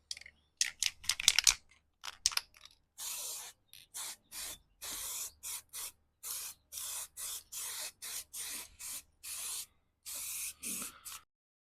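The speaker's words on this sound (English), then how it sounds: "I'm just going to use against more Halford's rattle can stuff, just a matte lacquer." Halfords matte lacquer from a rattle can goes onto narrowboat chimney brassware in a string of short sharp hissing bursts, some brief and some lasting about a second, with quiet gaps between them.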